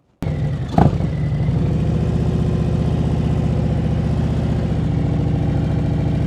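A motorcycle runs steadily at low revs through a slow, tight turn, its engine putting evenly and close by after a brief knock at the start.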